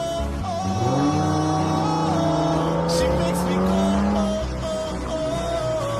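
In a driving video game set on city streets, a car engine revs up loudly, pitch climbing steadily, then easing off, with tire noise over the roar.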